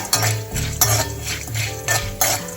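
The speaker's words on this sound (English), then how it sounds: "Saute it in a medium-low flame. We should not burn the dal." Dal stirred and sautéed in a pan over a medium-low flame for a Tamil Nadu recipe, heard as rhythmic scraping strokes of a spoon against the pan with a soft sizzle, close by and without talk.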